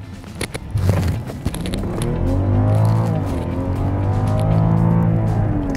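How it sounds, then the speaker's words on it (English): A BMW 7 Series car pulls away hard from a standstill, a few clicks and thumps first, then a smooth, steadily climbing engine and road tone that swells and holds, heard from inside the cabin without talk. "I can put it in drive and let's do a fast start."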